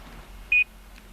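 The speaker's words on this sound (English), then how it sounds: "couple minutes you get a few beeps" A single short electronic beep from a GPS receiver confirming stored data after a few minutes of logging, clear and isolated against a quiet background.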